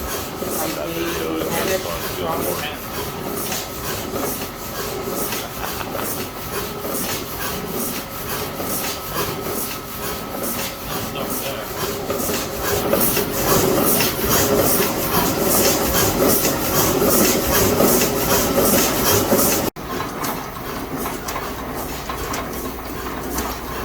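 A big antique Fairbanks 8-horsepower stationary engine runs steadily and close, a dense, evenly repeating mechanical chugging that holds for the whole stretch, with voices faintly mixed in.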